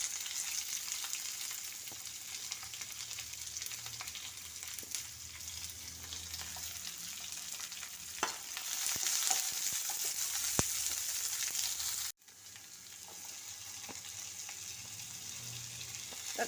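Chili, sliced onion and curry leaves sauté in hot oil for a bitter gourd curry, making a loud, continuous close sizzle with occasional stirring scrapes; the sound briefly cuts out near the end before resuming.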